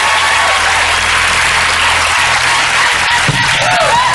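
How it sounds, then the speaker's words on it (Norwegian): Applause from a studio audience at a Norwegian television competition show, a dense, loud, continuous wash of clapping that holds steady throughout. "En applaus til Atle for siste skuddet nå."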